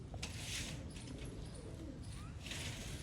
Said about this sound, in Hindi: छत वाले कबूतर।